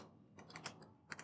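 A brief burst of a few soft keystrokes on a computer keyboard while Python code is entered, faint and close, with no talking.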